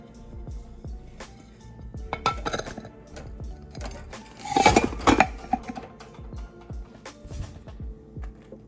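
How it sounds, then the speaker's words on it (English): Pound cake flipped onto a plate and then onto a cake board, giving a run of clinks and knocks of dishware and utensils that peak in a louder clattering burst midway before trailing off into lighter taps. "I'm going to flip it once over onto a plate and then back over onto the cake board"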